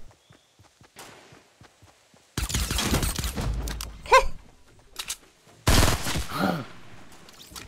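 Gunfire in Fortnite Battle Royale: a dense burst of rapid shots around the middle, then another loud volley, with quieter scattered taps and footsteps before it.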